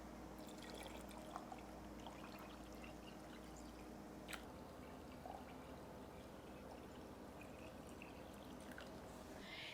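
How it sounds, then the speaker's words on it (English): Water poured to top off canning jars of raw-packed layered soup makes a faint, continuous trickle and light splashing, quiet and close, with no one speaking. "now I'm going to top my jars off with water"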